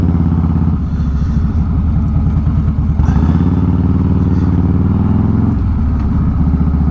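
A motorcycle riding through the city streets of Gainesville, Texas, its engine droning steadily and loudly throughout, with clattering from bumpy, poorly repaired roads and shifts in engine pitch as it moves.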